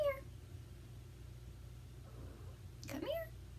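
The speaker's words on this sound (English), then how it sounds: "one of the cats wants to go out" An indoor house cat meows twice, once briefly at the start and once rising a few seconds later, both faint and close against a quiet room hum.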